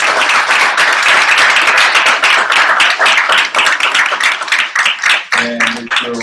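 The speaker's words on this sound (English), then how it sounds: "Please join me in giving them a round of applause." Audience applause for a panel at an assistive technology event, a dense burst of clapping that fills the room and thins out near the end as scattered claps and voices linger.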